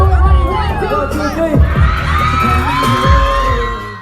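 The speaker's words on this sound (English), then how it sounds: "On the count of 3, I want y'all to scream to the top of the lungs for our group." A concert crowd screams and cheers loudly for the performing group, with high whoops and yells layered over a dense roar and a few thumping bangs.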